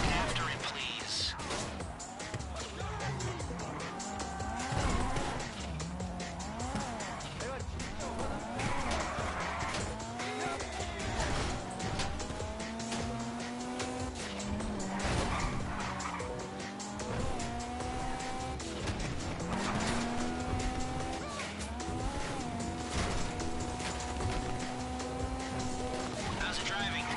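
A getaway car in the GTA 5 Online Fleeca heist mission drives with a steady engine drone and recurring tire squeals throughout, heard under continuous game music and talk.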